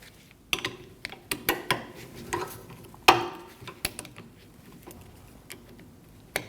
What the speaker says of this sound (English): Using a 16mm wrench to get on the nut, we'll use a set of adjustable pliers. We're going to remove the nut from the shock.